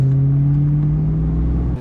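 A Foxbody Mustang engine idles steadily up close, a strong low rumble with a constant hum that holds for nearly two seconds before cutting off.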